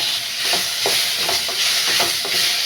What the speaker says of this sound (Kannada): ನೋಡಿ, ಈಗ ಟೊಮೆಟೊ ಹಾಕೋಣ.